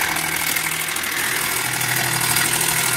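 A DASH ice cream maker churning with a continuous loud mechanical whir and a rough, bumpy rattle running through it from start to end, close by with no speech.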